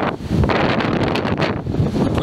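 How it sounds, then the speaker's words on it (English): Loud wind buffets the microphone in gusty, roaring rushes, continuous and close throughout the short stretch. "pretty windy"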